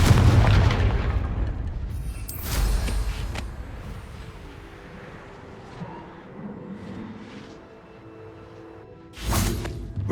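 A Confringo spell explosion in Hogwarts Legacy on PS5, opening with a heavy booming blast, followed by whooshing bursts and a fading rumble, then a second sharp burst near the end.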